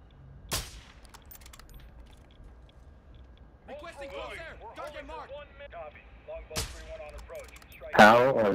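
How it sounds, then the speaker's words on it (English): Gunshots in Call of Duty DMZ, a few sharp isolated cracks spaced seconds apart with a louder burst at the end, while a voice talks in between. "How are these shots missing?"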